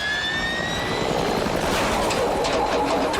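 Loud, steady roar of a custom-built helicopter in flight, a dense broadband whoosh with a thin high whine fading early, continuous throughout with no talk.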